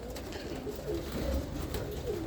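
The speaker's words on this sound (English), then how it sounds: "the birds are active. They're ready to get fed." Pigeons coo in low, soft, repeated calls at a roller pigeon loft around feeding time, with steady bird activity and fluttering in the background and no talking.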